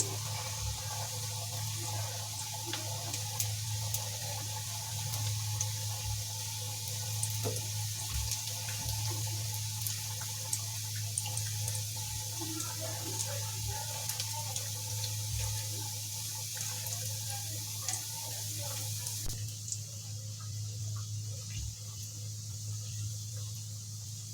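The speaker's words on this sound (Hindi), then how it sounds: "ये हमारा घी गरम हो चुका है। अब मैं इसमें सारी बालूशाहियों को एक साथ ही छोड़ दूंगी।" Balushahi dough pieces sizzle in hot ghee over a low gas flame, a steady, soft frying hiss that continues evenly throughout with a low hum underneath.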